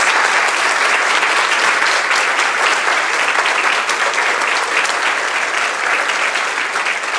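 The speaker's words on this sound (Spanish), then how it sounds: "Y el aplauso más grande," A large audience at a children's home and Rotary Club event breaks into loud, sustained applause. The clapping is dense and continuous throughout, with no speech over it.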